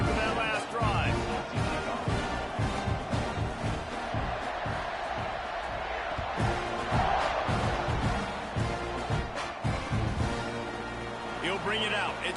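Football stadium crowd at a UGA versus Texas A&M game roaring and cheering steadily, loud and continuous, with a commentator talking over it throughout.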